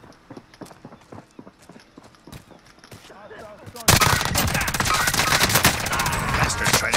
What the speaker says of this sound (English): Bastard's trying to shoot me.